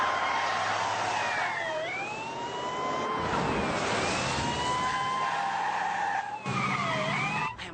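An emergency vehicle's siren wails steadily with rising and falling sweeps, loud and continuous over engine and road noise, with no talking.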